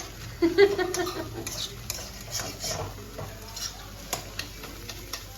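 Bhujia for chowmein is stir-fried in a pan, with a spatula scraping and clinking against the metal in irregular strokes over a soft sizzle, close by, and a voice briefly speaks early on.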